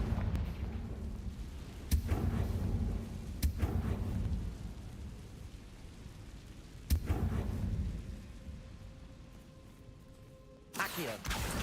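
Confringo blasting spells going off in Hogwarts Legacy, three or four sharp booming explosions spaced a few seconds apart, each with a rumbling tail over steady low game ambience.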